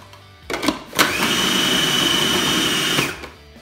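An electric blender whirs for about two seconds as it mixes skinned smoked mackerel for pâté, preceded by a few short clunks and ending abruptly, loud and close with no talking.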